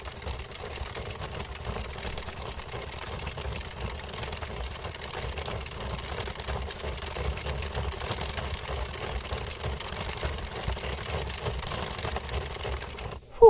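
An Addi knitting machine is cranked by hand in a steady, continuous mechanical whirr with fine rapid ticking of the needles, even and moderately quiet throughout, with no talk.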